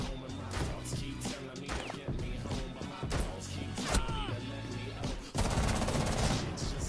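Heavy automatic gunfire in Rainbow Six Siege, continuous rapid bursts layered with impacts and crashes, loud and dense throughout, growing more intense near the end, with voices faintly mixed in.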